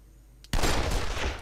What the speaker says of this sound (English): Shoot the other one now.